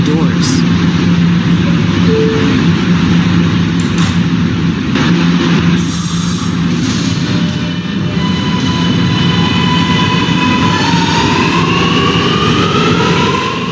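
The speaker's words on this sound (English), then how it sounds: "Please step back from the closing doors." R subway train departing on the N line: heavy, continuous low rumble and motor whine that rises as the train pulls away, with a faint chime and rattles near the start and an announcement-like voice over it.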